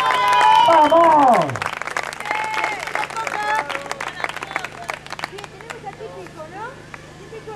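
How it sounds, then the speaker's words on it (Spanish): Circus audience applauding at a festival gathering, a broad clatter of clapping that thins out over several seconds, with a loud voice calling out and carrying over it at the start. "Fuerte el aplauso para todos los que la conocen"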